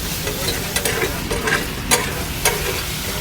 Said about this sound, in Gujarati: કાંદા અને શિમલાને આપણે પૂરી તરફ ફ્રાય કરીશું, હલકા લાલાશ પડતા